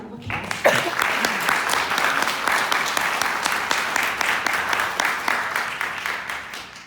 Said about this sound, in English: Let's welcome them both with a round of applause.